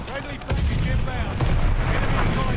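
Rapid bursts of automatic gunfire from the video game Call of Duty Vanguard rattle loudly and continuously, with heavy low-end thumps throughout, and a player's voice is heard over the shooting.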